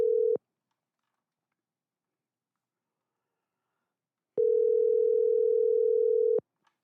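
Steady telephone dial tone while a phone call is placed: a short beep, a long silence, then a longer continuous tone that cuts off cleanly.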